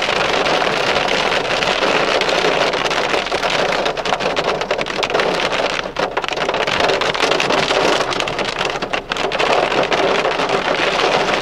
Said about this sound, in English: Pea-sized hail on the road.